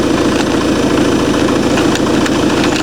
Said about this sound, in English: So all you got to do is turn your vehicle on. So vehicle's running.